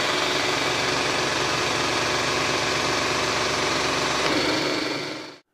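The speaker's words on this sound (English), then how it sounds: "if we turn on the overdrive, you can hear a different sound, and the speed is higher" An Austin Healey A-type overdrive runs with the overdrive engaged, giving a steady, dense mechanical drone with a faint rhythmic knock that continues without pause, then cuts off abruptly at the end.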